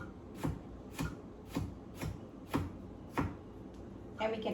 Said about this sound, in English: And then I just cut it into bite-sized pieces.